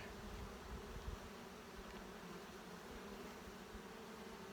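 Honey bees from a small wintered nuc colony hum faintly and steadily in a low, continuous drone, with no voices present.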